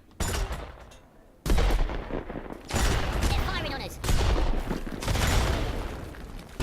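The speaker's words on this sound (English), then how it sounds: "I'm going to use a mounted gun." Mounted gun firing in the Worms video game, a rapid clattering fusillade of gunfire bursts with booming impacts, loud and repeated across the stretch, mixed with a voice talking over the action.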